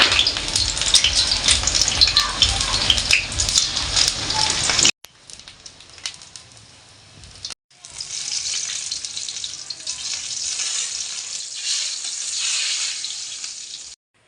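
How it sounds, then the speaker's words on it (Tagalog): Loud, close sizzling of eggplant frying in a hot pan, briefly dropping to a quieter crackle, then resuming as a steady hiss. "unahin natin yung prito yung talong guys"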